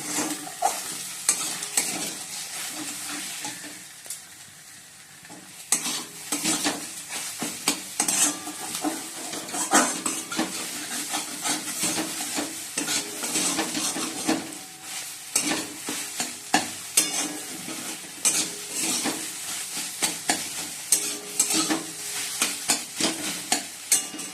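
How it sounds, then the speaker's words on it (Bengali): Oily sizzling from an egg frying in a pan runs steadily throughout, punctuated by frequent scrapes and taps of a utensil stirring against the pan. "ডিমটা ভেজে নিচ্ছি"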